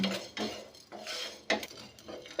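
Cashews, coriander seeds, cinnamon, cloves and cumin dry-roasting in a pan, stirred with a utensil that scrapes and clinks against the metal in quick repeated strokes, close and fairly soft.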